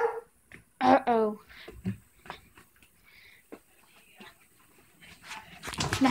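A dog whimpers and pants close by, with short yips and whines in irregular bursts and breathy panting between them, alongside voices.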